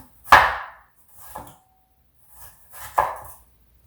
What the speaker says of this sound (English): So we're going to go ahead and slice the entire onion.